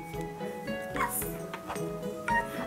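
A Chi Chi Love electronic toy dog gives several short, soft yips and barks in an irregular rhythm, mixed with whimpering tones and room noise.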